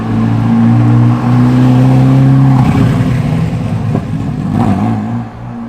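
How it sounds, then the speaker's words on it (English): A Ferrari F40 drives past on a road with a loud, steady engine drone that shifts pitch midway as it goes by, then fades slightly, close to the listener with no talk over it. "I don't mind being interrupted when it's an F40."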